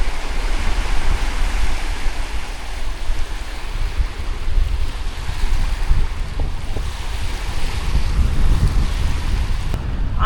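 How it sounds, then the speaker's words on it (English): Ocean waves wash onto the shore beside a coastal trail in a continuous, loud surf roar, with gusts of wind buffeting the microphone and no voices. "I just want to sit and listen to the waves for a couple of minutes"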